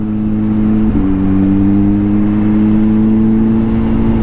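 A 2023 Kawasaki ZH2 motorcycle is being ridden, its engine giving a loud, steady droning hum. Near the start the pitch steps briefly with a shift, then the tone holds evenly under a wash of wind noise.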